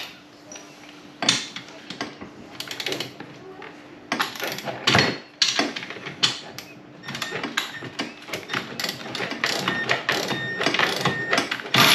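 Socket wrench loosening 14 mm bolts on the rear assembly of an EZGO TXT golf cart: rapid metallic ratchet clicks and clanks in irregular bursts, close and moderately loud, with a faint voice now and then.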